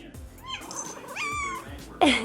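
A cat meows in long, drawn-out wavering cries close by, followed by a short sharper sound at the end.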